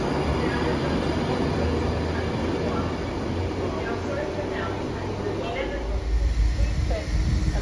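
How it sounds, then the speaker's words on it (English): A Class 172 diesel train, unit 172-007, passes with a steady low rumble and rolling rail noise that swells louder near the end. "There goes 172-007 to Leamington Spa from Bermuda Park."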